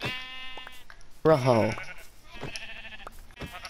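Sheep in a Minecraft-style video game bleat several times in short wavering calls, with one louder bleat in the middle, while a player says a brief word over the game sounds.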